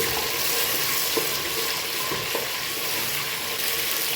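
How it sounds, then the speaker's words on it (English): Tomatoes and onions sizzle steadily in a pan while being stirred, with a constant frying hiss and a few soft scraping knocks from the spoon. "so I'm going to add in tomatoes. Give it a good mix."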